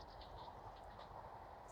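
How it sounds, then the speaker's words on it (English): Train passing on a railway line in the South Downs countryside, a faint, steady distant rumble and hiss heard outdoors with no one talking. "Just wait for yet another train to go past."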